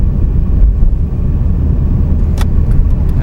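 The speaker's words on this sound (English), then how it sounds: "I just shift down to second gear, come around the corner" A manual car climbs a snowy hill in second gear, its engine a loud, steady low rumble up close with a few brief rattles near the end, alone without talk.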